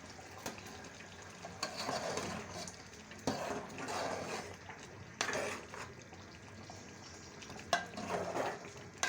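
Chicken achar gosht frying in ghee sizzles softly and steadily in a pan, broken by periodic stirring scrapes and light clinks of the spoon against the pot.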